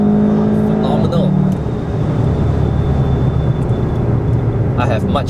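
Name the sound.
VW Golf driven fast on Sepang Circuit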